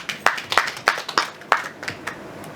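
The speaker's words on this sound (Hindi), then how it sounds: "दीक्षित जी के लिए जोरदार तालियां बजाइए।" Scattered handclaps from a small audience at a film trailer launch event, about eight sharp claps at an uneven rhythm, fairly close and moderately loud, with no voices.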